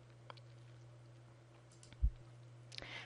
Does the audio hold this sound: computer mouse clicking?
yes